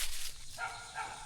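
A dog barks a few times at a distance, faint and short, amid quiet outdoor surroundings.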